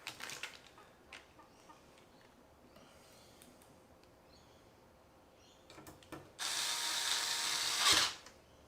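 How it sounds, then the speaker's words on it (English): An electric screwdriver whirs in a few short bursts and then one longer loud run while screws are driven into a PC case during a computer build, with quiet pauses in between. "And now the screwing begins."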